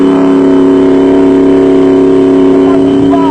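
An off-road racing Jeep at the 2001 Barberspan Off Road Race in South Africa drones loudly with a steady engine note, shifting in pitch near the end as it passes.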